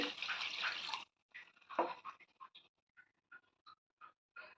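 Water is poured into a cooking pan of spiced brinjal and egg curry, first a second-long rushing splash, then a run of small, quiet drips and sputters trailing off.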